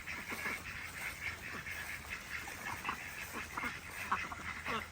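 Ducks and geese honk and quack together in a steady, busy chorus at an orchard at nightfall while being herded into their house, with calls overlapping close by and no pauses.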